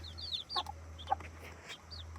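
Baby chicks give high, thin peeps in short bursts while a mother hen clucks softly now and then, all faint over a steady low hum.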